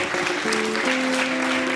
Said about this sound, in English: Let's give our contestants and our audience members a big hand.